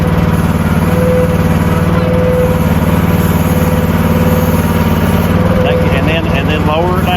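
A sawmill bought secondhand and under repair runs with a loud, steady engine drone as its blade is pushed forward. The motor hum stays constant throughout, with faint voices beneath it.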